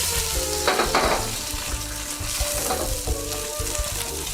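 An egg fries in hot oil, giving a steady, crackling sizzle that stays close and fairly loud throughout, with a few brief bursts of sharper spattering.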